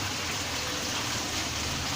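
Water spilling steadily from a backyard garden pond's waterfall and fountain, a dense, even wash of flowing water that holds constant and close throughout, with no voices.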